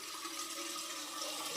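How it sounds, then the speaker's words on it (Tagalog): Water is poured into a pot to make a steamer for Thai-style sticky rice, a continuous soft rushing fill heard faint and steady without talk. "Maglalagay lang tayo ng tubig dito kasi ang gagamitin natin for steamer."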